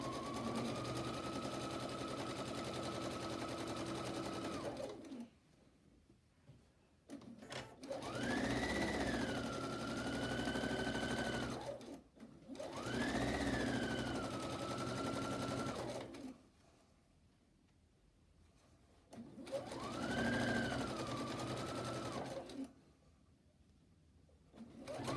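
A sewing machine stitches bias binding in three steady runs of several seconds each, with short quiet pauses between them, close and fairly loud with no talking.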